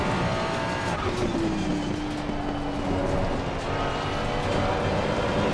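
Ferrari 296 GT3 race car lapping Imola in Assetto Corsa Competizione, engine droning loud and close with a gliding pitch shift as it accelerates, plus tyre scrub noise underneath, continuous and without talk.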